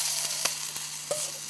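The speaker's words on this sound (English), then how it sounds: "you can hear that sizzling away nicely" Steady hiss of capsicum sizzling on a hot barbecue grill, with a few soft clicks and taps over the constant crackle, no voices.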